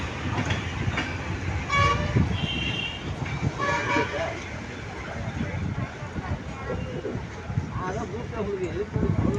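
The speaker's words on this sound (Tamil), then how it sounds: "கரெக்டாக எட்டு மணிக்கு வந்துருச்சுங்க வண்டி ஈரோடு ஜங்ஷன்" A train pulls into Erode Junction with rumbling wheels and a couple of horn-like tones, while station noise and voices sound nearby throughout.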